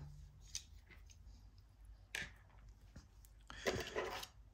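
Scissors snip the tag end of fishing line after a half blood knot on a chod rig, a few close, crisp cuts separated by short pauses, with no talking.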